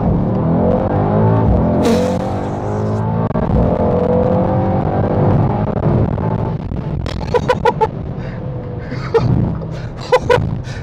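Mercedes-AMG GT 63 S 4-Door accelerating hard, a loud, sustained engine roar with rising harmonic sweeps and brief sharp transients toward the end.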